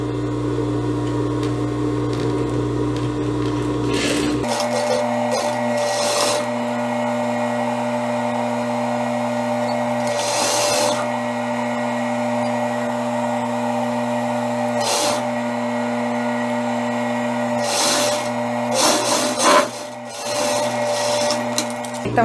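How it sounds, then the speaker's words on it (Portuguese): A sewing machine stitches the side seam of a blouse with a steady mechanical hum. The hum shifts after a few seconds and is broken by brief louder bursts and pauses, and a voice is heard faintly. "Vou passar uma costura aqui fechando as laterais,"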